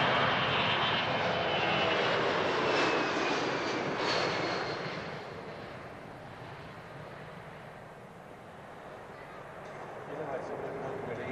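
At an air show, a military aircraft flies a simulated tactical approach. Its engine roar is loud and broad at first, then fades somewhat and stays as a steady rumble while a commentator talks over it.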